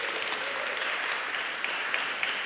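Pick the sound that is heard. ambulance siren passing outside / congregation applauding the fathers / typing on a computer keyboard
congregation applauding the fathers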